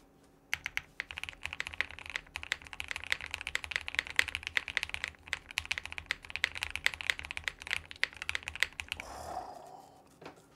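Fast typing on a Space 80 Apollo mechanical keyboard with tape mod, crisp, clacky keystrokes in a steady rapid stream, close and clear, ending with a short rustle.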